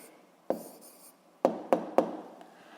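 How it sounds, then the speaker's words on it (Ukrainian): Someone writes out the answer to a physics problem during a lesson. A handful of sharp, close taps and short scratchy strokes are heard, with quiet pauses between them and no talk. "Давайте я тут запишу."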